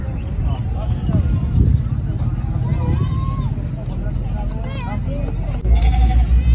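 Goats bleat amid the noisy bustle of a goat market, with people talking throughout; several wavering calls come from nearby animals, and a short louder thump lands near the end.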